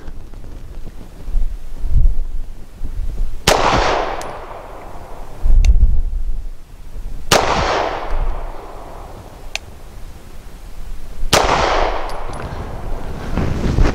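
A Tisas Zigana F pistol fires 138 grain ammunition at an outdoor range, several loud, sharp gunshots spaced a few seconds apart, each followed by a ringing decay, with wind noise on the microphone.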